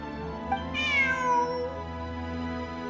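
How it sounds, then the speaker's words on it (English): A cat meows once in the video game Genshin Impact, a clear drawn-out meow rising then falling, heard alone over a soft ambient music bed. "Look, a cat."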